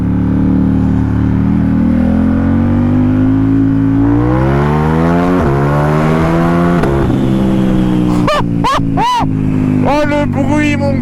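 A loud Diavel dragster-style motorcycle engine revs, pitch climbing steadily, then sharp blips of throttle burst out in quick succession near the end.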